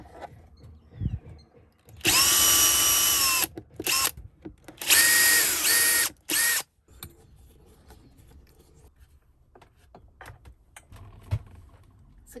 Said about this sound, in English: I might want to turn the drill the right way as well.